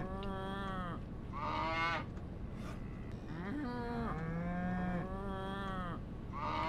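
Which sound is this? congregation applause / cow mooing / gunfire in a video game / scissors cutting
cow mooing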